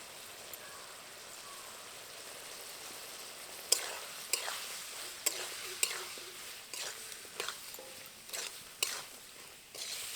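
Banana stem curry simmers in water in a pan, a soft hissing bubble punctuated by a run of sharp, irregular clicks and pops, fairly quiet and close.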